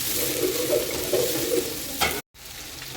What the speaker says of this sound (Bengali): পেঁয়াজটা অনেকক্ষণ তেলের মধ্যে ভাজতে হবে, যেমন পেঁয়াজটা লাল লাল হয়ে যাবে।